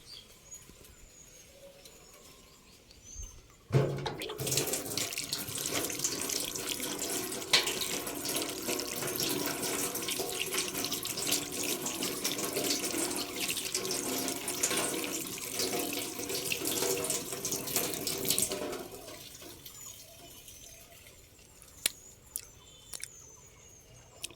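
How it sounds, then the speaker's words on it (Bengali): Tap water runs steadily for about fifteen seconds while Bangladeshi cherries are washed, close and full, with faint bird coos before and after the flow. "আমরা আগে এটা ধুয়ে খাওয়ার পালা"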